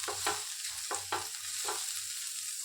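Buttered aloo paratha sizzling on a hot tawa: a steady close frying hiss broken by several rhythmic scraping or pressing strokes, with no talking.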